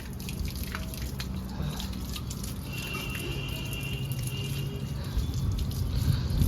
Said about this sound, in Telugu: వాడి సైకిల్కి కూడా పూజ చేసుకుందామని కడుక్కుంటా అని చెప్పి కడుక్కుంటున్నాడు